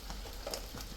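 Mixed tomato for Nigerian jollof rice frying and being stirred in a pot, with a soft steady sizzle and faint scraping stir strokes, close and continuous with no talking.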